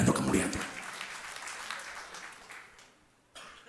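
Applause from a church audience, clapping strongest at the start and fading away over a few seconds before a short voice returns.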